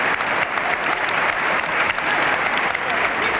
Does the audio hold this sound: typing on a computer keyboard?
no